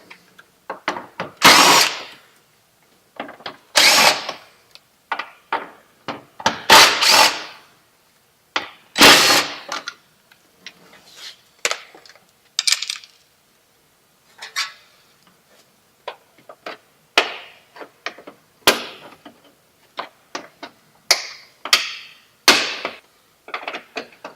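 A power tool takes out the 10mm bolts holding a vehicle's exterior trim. About a dozen short, loud, close whirring bursts are separated by quiet gaps, and no voices are heard.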